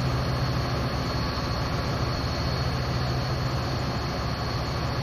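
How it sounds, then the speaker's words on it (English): A metro train in the Train Simulator 2016 game rolls steadily past on a suburban line at Naperville, a continuous loud rumble with a low engine hum and a sustained hiss throughout, no voices. "Another metro train."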